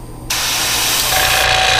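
An airbrush sprays paint onto a fishing lure, a sudden loud continuous hiss that starts after a brief quiet moment and holds steadily to the end.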